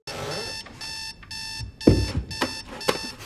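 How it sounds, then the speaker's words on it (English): In a film scene, an electronic alarm clock beeps in repeated short bursts with regular pauses, loud and close, while voices and a thump break in partway through. "Vampires need alarm clocks too."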